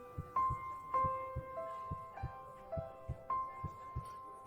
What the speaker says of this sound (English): there is a heartbeat sound